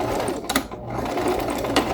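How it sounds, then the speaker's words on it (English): A sewing machine with a walking foot runs steadily, its needle stitching fabric for skillet handle covers in a fast mechanical rhythm with brief pauses, close and fairly loud. "I'm hoping the walking foot will pull this"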